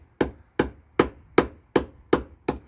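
A Work Tuff Gear Woodscraft Chanto knife is hammered into wood: seven sharp, evenly spaced strikes about every 0.4 seconds, each a crisp close-up thwack that fades quickly, with no talking.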